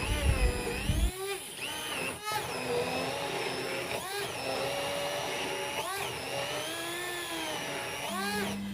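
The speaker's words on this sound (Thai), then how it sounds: "ใส่นมจืดลงไปปั่นเพื่อให้ปั่นได้ง่ายขึ้น" A kitchen blender whirs continuously as it purees durian with plain milk for a no-bake cheesecake. The motor's pitch dips and surges several times as the thick mixture churns, close and steady without speech.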